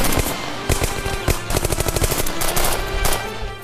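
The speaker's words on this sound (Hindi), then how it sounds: "फायरिंग रोक ही नहीं रहे ये लोग। बस की तरफ से हैवी फायरिंग हो रही है" Heavy automatic gunfire from a tense firefight in a TV drama, with rapid bursts of machine-gun shots cracking loudly and continuously, close and dense with no pauses.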